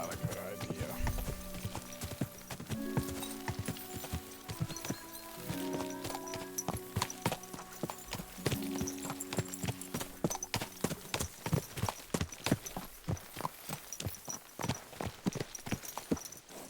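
Horse hooves clip-clop steadily as a rider travels in the medieval game Kingdom Come: Deliverance II, the rhythmic clopping growing busier toward the end, with game music and occasional talk underneath.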